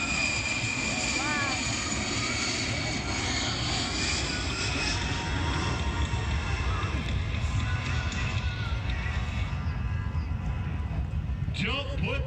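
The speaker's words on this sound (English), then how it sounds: "The A-10 is the premier close air support aircraft supporting our ground forces." An A-10 close air support jet at the Cleveland air show roars steadily throughout, a loud continuous engine drone with crowd noise underneath and a brief brighter swell near the end.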